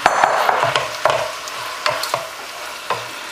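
Beef and marinade stirred through in a hot stir-fry pan, loud close sizzling with repeated scraping and clattering strokes of the utensil against the pan, no voices.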